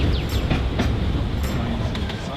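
A train rumbles loudly and continuously with metallic rattles and clanks as it crosses a long railway bridge, close by.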